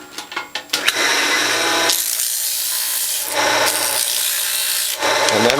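Steady abrasive rasping of sandpaper worked against the metal shaft of a Norwalk juicer, starting with a few short scrapes and then settling into long loud continuous strokes, close up.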